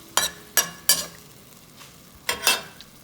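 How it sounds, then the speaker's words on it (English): Several sharp scraping, sizzling strokes of a spatula stir-frying beef in a hot pan, spaced irregularly over a few seconds. "keep stir frying"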